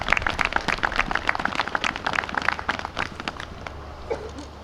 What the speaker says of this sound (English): How about a round of applause to our junior ROTC from Topeka High?